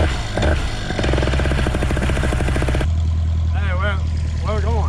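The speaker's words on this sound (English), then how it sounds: "let me start this motor" A paramotor engine, a small backpack-mounted motor, cranks and catches into a loud, rapidly pulsing mechanical chatter, then settles into a steady drone. A voice is heard over the engine near the end.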